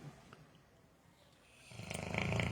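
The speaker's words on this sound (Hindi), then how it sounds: "इसके खर्राटे लेने का लुत्फ उठाइए।" A sleeping dog snores, quiet and breathy at first, then a louder rattling snore builds near the end.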